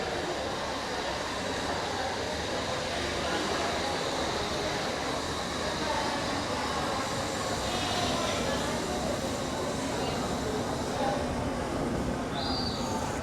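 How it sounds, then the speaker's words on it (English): London Underground Metropolitan line train standing at a platform in King's Cross St Pancras station, a steady broadband rumble and hiss of the idling train filling the station, with faint talk and a brief high tone near the end. "This is a Metropolitan line train to Aldgate."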